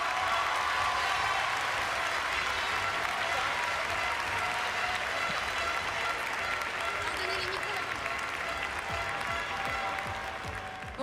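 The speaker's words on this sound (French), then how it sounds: "un tonnerre d'applaudissements pour Sainte-Maure" A school audience claps steadily and densely for the whole stretch, a continuous wash of applause that fades slightly at the end, with some voices mixed in.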